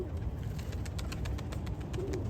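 Pigeons flutter and coo amid steady outdoor noise, with quick repeated ticking wingbeats; one pigeon has a prosthetic beak.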